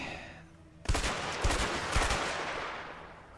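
M16 rifle gunfire in the video game A Way Out, a sudden loud burst of rapid shots with a few heavy thumps, fading into a lingering echoing tail.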